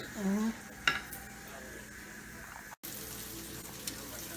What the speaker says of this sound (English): we're going to nicely golden saute that until it's cooked through with all the flavors of the bacon fat